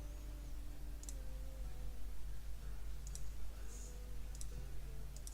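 Computer mouse clicks from Albion Online gameplay, sharp isolated taps spaced a second or so apart over a steady low background hum, with faint talk in the room.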